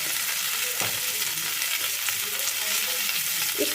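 Ground spices and coriander powder sizzle steadily in hot oil in a pan while being stirred, with a constant close frying hiss and light scraping.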